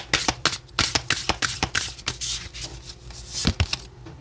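Oracle cards shuffled by hand at a tarot reading, a quick run of crisp riffling flutters and taps repeating in rapid succession, close and alone.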